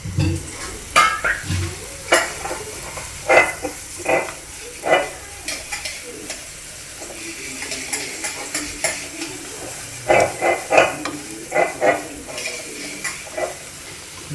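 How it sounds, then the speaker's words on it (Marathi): Crisp potato slices sizzle in a hot pan as a spatula turns and stirs them, with scraping and clinks against the pan close by and a soft frying hiss underneath. "एका साईडून भाजली त्यांना परतून घेऊया. अशी परतून घ्यायची."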